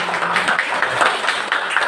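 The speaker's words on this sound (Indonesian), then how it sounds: "Tepuk tangan dulu" Group of people clapping together in a classroom-style gathering, a dense steady patter of many hands at moderate loudness, continuous throughout with no voices on top.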